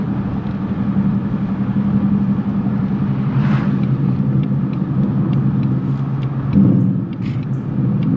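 A 2019 Ford Mustang GT engine rumbles steadily from inside the car, with a brief rise near the end as the automatic rev match blips the throttle.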